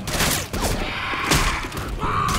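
Rapid gunfire aimed at a Hunter in Left 4 Dead 2 crackles in bursts of sharp shots amid thuds and chaotic game noise, fairly loud and close.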